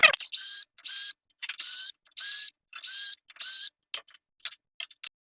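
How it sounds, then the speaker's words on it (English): Jaws being removed from a Nova G3 lathe chuck, giving a run of regular short mechanical whirring bursts with brief gaps, close and crisp, then a few scattered clicks at the end; no talking. "The first thing to do is to remove the jaws from the chuck."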